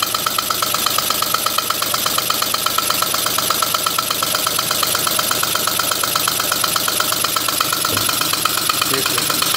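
A rebuilt three-cylinder radial engine idles with a steady, rapid, even chuffing and knocking pulse, close and moderately loud, while a person talks over it.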